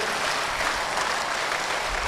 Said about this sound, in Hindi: एक बार दोनों हाथ ऊपर उठाकर आशीर्वाद की तालियां दीजिए मुझे